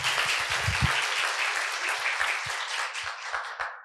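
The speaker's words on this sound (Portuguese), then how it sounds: "Uma salva de palmas para o Bush." A studio audience applauds a guest arriving on a podcast, with dense steady clapping that carries on for several seconds before tapering off at the end.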